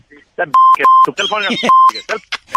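Repeated short electronic beeps from a dropped phone call, steady mid-pitched tones breaking in and out between bursts of conversational talk over the line.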